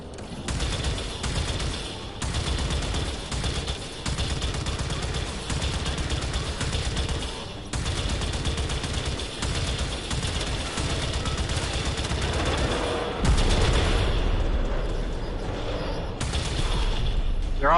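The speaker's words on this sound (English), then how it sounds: "Well, those are cannon batteries" Cannon batteries fire in a space combat video game, a steady rapid barrage of booming shots layered with mechanical rumble, loud and continuous for the whole stretch.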